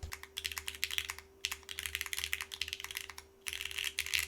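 Rapid keystrokes clatter on a mechanical Alice-layout keyboard in quick bursts, with short pauses and a steady low hum underneath.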